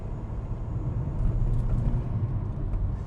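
A Mk1 SEAT Leon Cupra R 210 hot hatch drives along, its engine and road noise forming a steady low rumble inside the cabin, with no talking.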